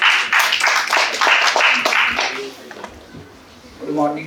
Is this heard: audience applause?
yes